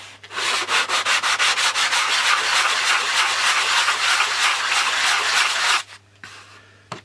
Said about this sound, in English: Now we can form the tip using just sandpaper.